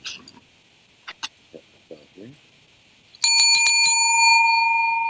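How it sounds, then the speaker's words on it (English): A bright bell rings several quick times and then hangs in a long ringing decay, following a few scattered vocal sounds and clicks. "ring our bell now."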